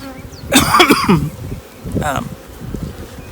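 Honeybees buzz at a hive during a queen release, a brief loud burst of insect drone with a throat-clearing or cough-like vocal sound over it, then quieter buzzing returning in short waves.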